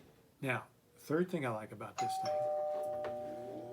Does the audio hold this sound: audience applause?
no